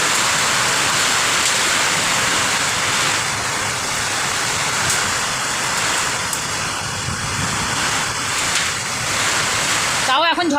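Heavy rain pours steadily during a storm, a dense, loud hiss of downpour that continues unbroken throughout, with a brief sharp rattle near the end.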